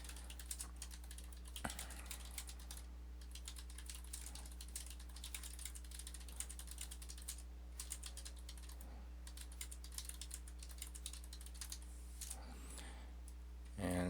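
Rapid, steady clicking of fingers typing on a computer keyboard goes on continuously at a close, quiet level over a low electrical hum.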